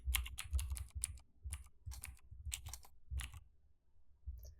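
Typing on a computer keyboard during C++ coding: quick bursts of crisp key clicks, close and clear, separated by brief pauses, with no talking.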